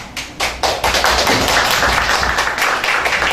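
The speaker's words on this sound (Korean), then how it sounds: "우리 박종수 교수님 모실 때 박수로 환영해 주시기 바랍니다" Audience clapping welcomes a guest lecturer at a talk concert, starting with a few scattered claps and swelling into steady, dense applause from a room full of people.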